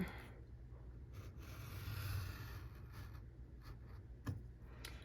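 Paper for a junk journal being cut into long straight lines, a faint, steady dry scraping with a sharper snip near the end, close and quiet with no voices.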